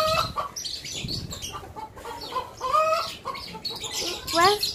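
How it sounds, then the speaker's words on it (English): Chickens clucking in a backyard run with a cockerel present, busy overlapping clucks and squawks close by, with a few voices mixed in. "Oh, chickens!"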